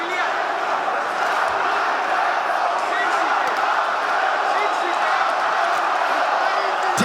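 An arena crowd at a UFC fight roars continuously, a dense steady wall of cheering and shouting that stays loud throughout.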